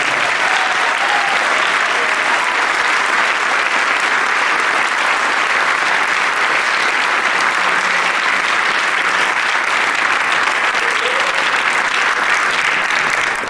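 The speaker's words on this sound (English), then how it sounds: "About a huge round of applause for our seniors." A large audience at a high school honors night gives seniors a long, loud ovation of dense, continuous clapping that holds a steady level from start to finish, with only faint vocal traces mixed in.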